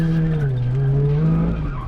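A supercharged car skids on a skid pan, its tyres squealing loudly and continuously for under two seconds with a wavering pitch over the engine's drone, close and with no voices.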